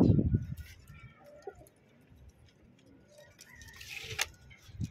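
Domestic fancy pigeons coo softly in a loft, a few low murmuring calls at moderate distance amid faint clicks and background noise, with no talking.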